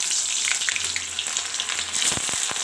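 Onions sizzle steadily in hot oil in a wok for a chicken curry, a dense continuous frying hiss with a few stirring knocks near the end, close and alone.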